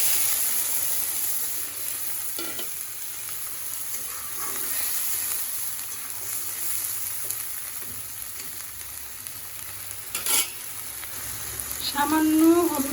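Taki fish simmer in a pan after water is poured in, giving a continuous hissing sizzle with soft bubbling. A few brief clinks and scrapes sound over it, and a short burst of louder spitting comes near the end.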